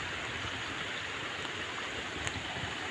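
Water flowing along a village stream channel at Kajarad, a steady broadband rush that is continuous and fairly close, with no voices.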